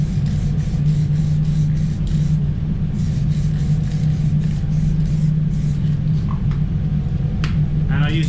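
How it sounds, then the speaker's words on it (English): Glazerite spot primer in a grey shade sprayed onto a small paint bust on a BMW, a steady hissing spray in short bursts over a constant low rumble of booth extraction. "I'm just going to put some Glazerite spot primer on there"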